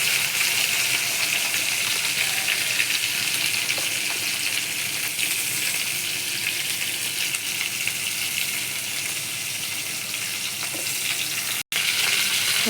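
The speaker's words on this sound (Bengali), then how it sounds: "দেখো পটলটা প্রায় ভাজা হয়ে এসছে" Pointed gourd (potol) fries in a pan with oil, making a steady, broad sizzle that runs evenly and closely throughout, cut by a brief sudden gap near the end.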